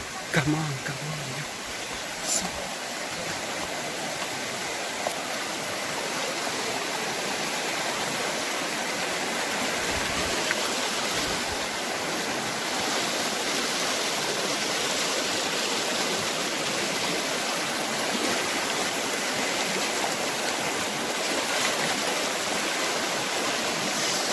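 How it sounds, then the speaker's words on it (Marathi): Continuous rushing of a flowing stream close by near Donawade, a steady broadband wash with a few faint knocks. "हा पहिलाच ओढा लागणार आम्हाला"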